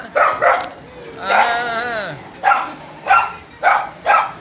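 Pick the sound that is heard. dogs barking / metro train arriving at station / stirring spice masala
dogs barking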